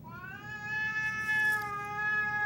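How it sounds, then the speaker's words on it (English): Cats fighting on a video playing in the room, with long rising and wavering yowls and caterwauls held over a low background rumble, loud and continuous. "You're just showing cat fights now."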